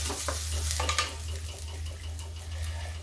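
Okra in a pan with a little vegetable masala is stirred, giving a steady soft sizzle under repeated scraping and clinking strokes of a spoon against the pan, close up and without talk.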